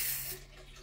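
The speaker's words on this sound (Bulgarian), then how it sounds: "и пълня с вода." Water runs from a tap to fill a container for treating black beard algae in an aquarium, a loud hissing spray that cuts off abruptly partway through.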